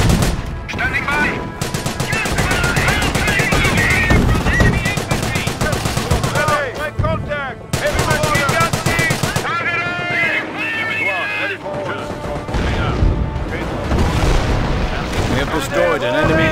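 Constant gunfire, machine-gun bursts and explosions in the World War II strategy game Company of Heroes, during the Operation Market Garden campaign, loud and dense, with soldiers' voices shouting over the combat.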